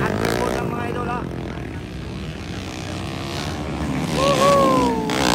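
Underbone motorcycles of about 450 race past, their engines whining and revving loudly with shifting pitch, while an excited voice and crowd noise carry underneath.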